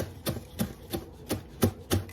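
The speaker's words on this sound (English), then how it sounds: "Rough chopping" A knife rough chops bok choy on a cutting board in six steady, evenly spaced thuds, close and crisp with no talking.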